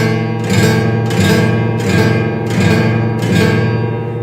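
A cheap spray-painted acoustic guitar is strummed in four full ringing chords, each struck roughly every second and left to sustain, loud and close with no talking.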